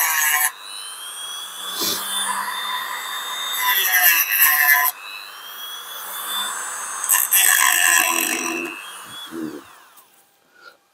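A power drill bores out the rivets on a Ford Model T data plate, giving a steady whining grind in several long bursts with short pauses, close and loud, fading out near the end.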